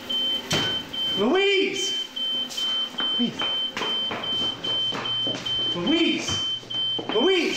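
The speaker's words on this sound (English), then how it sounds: "There's fire alarms in the kitchen." A fire alarm sounds in a kitchen as a steady, repeating high electronic beep, heard beneath loud, urgent shouting from a woman calling out again and again.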